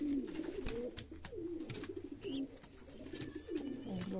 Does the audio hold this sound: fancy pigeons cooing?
yes